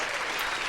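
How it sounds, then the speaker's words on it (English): Brief, steady burst of applause for a special guest at the close of a podcast episode, a continuous even clapping texture heard alone and fairly quiet, lasting under a second. "Let me hear one more applause for our special guest"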